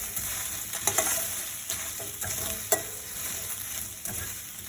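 Okra cooking in a pan without oil is stirred over the stove, giving a close, constant sizzle broken by several sharp scrapes and taps of the utensil against the pan, with no talking.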